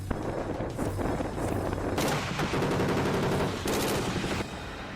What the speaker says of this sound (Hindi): टारगेट सेट कर अंधाधुंध फायरिंग